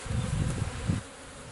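Honey bees hum and buzz loudly around an opened hive, a close, thick drone that swells and wavers for a second before easing slightly.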